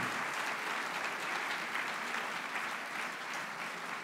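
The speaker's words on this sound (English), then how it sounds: "again, an applause for them" Steady applause from a lecture audience, dense and continuous for several seconds with no break and nobody speaking over it.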